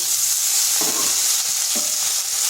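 Ginger, garlic and cut potatoes frying in a pan, a steady bright sizzle throughout with a few soft stirring scrapes and clinks, close and fairly loud, no talking.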